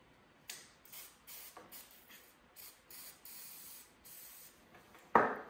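Short bursts of aerosol lubricant spray onto a car speedometer cable during a Buick Grand National dash gauge removal, about eight quiet hisses in an irregular rhythm, then a sharper louder clunk at the end.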